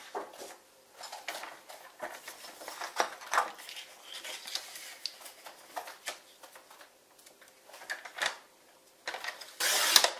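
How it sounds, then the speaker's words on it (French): A paper strip is cut to size for a scrapbook explosion box, making a series of crisp, intermittent cutting and rustling bursts that are close and fairly quiet, ending in a louder scrape, with no talking. "Je vais couper toute ma bande."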